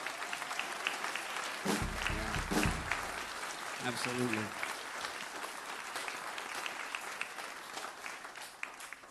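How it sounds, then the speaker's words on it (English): An audience at a school jazz band concert claps and cheers steadily, a broad wash of applause with a couple of brief louder swells, while people speak over it. "So why don't you guys give a big cheer"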